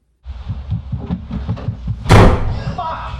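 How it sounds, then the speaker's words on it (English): A door slams shut with one loud, sharp bang in a Paranormal Activity scene, after a run of soft rhythmic thumps. A faint voice-like murmur carries underneath. "to doors being slammed shut"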